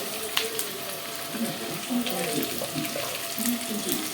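Green chillies fry in a pan for a prawn and gongura curry, giving a soft, steady sizzle with scattered crackles, fairly faint throughout.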